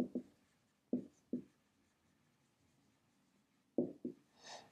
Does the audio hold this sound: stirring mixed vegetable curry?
no